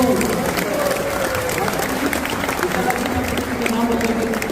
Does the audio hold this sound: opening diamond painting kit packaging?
no